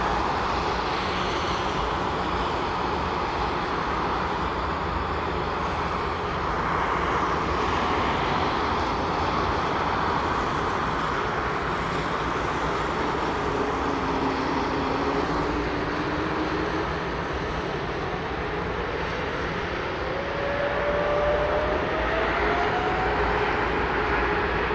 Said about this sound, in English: I bet the upcoming 380 is airborne before 30 seconds after we hear the engine spool